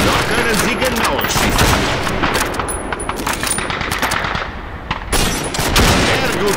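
Dense bursts of gunfire from a Call of Duty 2 target-practice range ring out loud and near for several seconds, with rapid overlapping shots and sharp cracks throughout.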